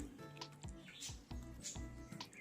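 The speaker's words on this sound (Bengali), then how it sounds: "এবার আমি হাতে করে চটকে নেব" Boiled green mangoes are mashed by hand, giving soft wet squelches and squishes in a few quick pulses, close and quiet.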